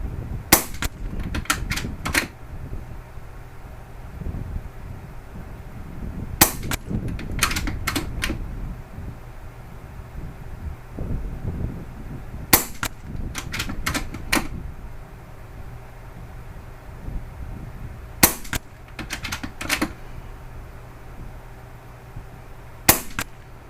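An Umarex Gauntlet 30 air rifle with a short stubby moderator fires in spaced groups of sharp, snappy shots, each followed closely by the crack of a pellet hitting a target, with quiet gaps between bursts.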